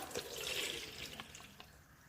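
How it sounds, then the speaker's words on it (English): Water drains from soaked kapenta fish (matemba) through a colander, a steady close splashing and trickling rush that is loudest early and then thins to scattered drips, with no talking. "Now I'll strain it with a colander to remove the water."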